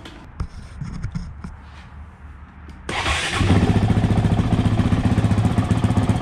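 A Honda CRF450X dirt bike starts almost immediately after some quiet mechanical clatter, then settles into a steady, loud, close idle with a fast pulsing beat.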